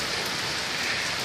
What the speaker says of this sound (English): It is motherfucking pouring wet